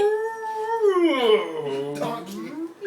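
A person imitates a beluga whale with a single sustained, wavering whistle-like vocal cry that bends downward in pitch, close and fairly loud.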